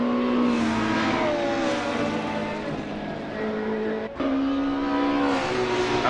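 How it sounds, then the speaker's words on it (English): BMW touring car engine in a racing video game, a loud steady roar rising through the gears with one brief cut at a gearshift, then climbing again, heard without talk. "the BMW sounding wonderful"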